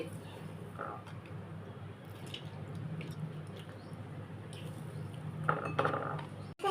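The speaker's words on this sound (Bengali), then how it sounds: "এই রসগোল্লার রসগুলো চিপে আলাদা করে নিচ্ছি" Rasgullas squeezed by hand to press out their syrup, soft wet squishes and drips with light clinks of a utensil against a bowl, fairly quiet, a few brief louder knocks near the end.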